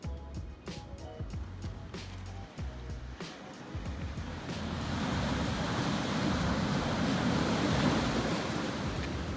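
Ocean waves crash and surge on a beach by a cave early in the day, a steady roaring wash that swells louder and denser midway, with wind buffeting the microphone.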